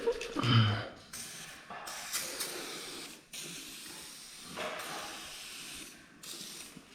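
Short hissing bursts of spray lubricant hit garage door parts, with several quick sprays separated by pauses, close by and fairly loud.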